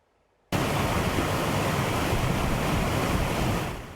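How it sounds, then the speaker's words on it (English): Roaring creek in Santa Clarita, storm-swollen water rushing hard near Sand Canyon, a loud, dense, unbroken roar starting abruptly and holding steady before easing slightly at the end. "Danger and damage from a roaring creek."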